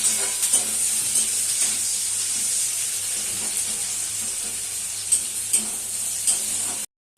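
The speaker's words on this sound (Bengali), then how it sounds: "পেঁয়াজ রসুনটা ভালো করে ভেজে নেব।" Onion and garlic frying in a pan, a continuous close sizzle with intermittent stirring scrapes and taps, cutting off abruptly at the end.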